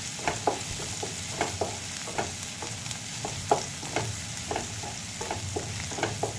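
Onion sautéing in a pan for masala Maggi noodles, a steady sizzle with regular scraping stir strokes close by, no voices.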